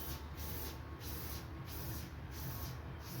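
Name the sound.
hand-propelled spray gun spraying Nikwax waterproofing on tent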